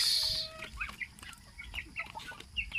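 Pet chickens cluck in short, scattered calls at morning feeding, close and moderately loud over a low background rumble, with a brief high squawk at the start.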